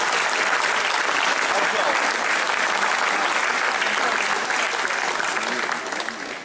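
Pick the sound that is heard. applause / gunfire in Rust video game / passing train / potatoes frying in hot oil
applause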